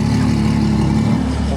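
Loud, deep engine rumble close by from a straight-piped Ferrari 812 Superfast with Novitec exhaust, a throaty idle with a slight rise in revs partway through.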